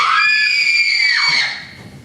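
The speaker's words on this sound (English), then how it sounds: "It is the cry of the women, my lord." A group of women cry out in a sustained high, piercing scream inside a castle, loud and strong, then fading away at the end.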